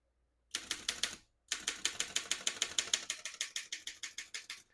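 Typing on a 1923 Underwood No.5 vintage portable typewriter, a brisk run of sharp mechanical key strikes after a single short burst and a brief pause, close and clear with no talk.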